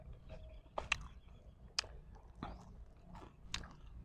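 A man eats a rice meal with small fried lizard meat outdoors by a rice paddy, with soft, close chewing and crunching bites in an irregular rhythm and nobody talking.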